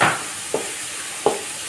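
Whole cardamom pods and cloves fry in a pan, a steady close sizzle with two short scraping stir strokes about three quarters of a second apart.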